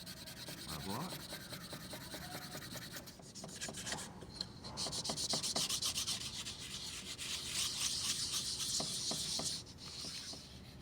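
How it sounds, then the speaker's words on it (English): A lino print block being burnished by hand, the back of a tool rubbed firmly over paper laid on the inked block, giving steady close scraping and rubbing strokes that continue throughout without talk. "I'm just going to use the back of this to burnish"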